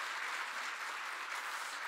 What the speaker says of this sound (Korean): 한번 큰 격려의 박수 부탁드리겠습니다